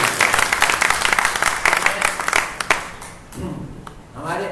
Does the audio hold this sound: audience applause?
yes